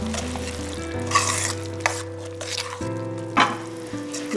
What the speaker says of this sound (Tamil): இப்போ அரைச்சி வச்ச இந்த மசாலாவை இதில் ஊற்றி ஒரு 5 நிமிஷம் மீடியம் தீலன்ட்டுன்னு இல்லைன்னா மீடியம் லோலன்ட்டுன்னு வச்சு கொதிக்க வச்சுருக்கேன்